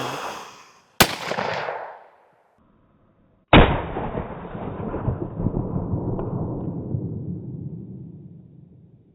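An 1851 Colt Navy revolver fires twice outdoors, each a sharp, loud blast followed by a long rolling echo that fades slowly after the second shot.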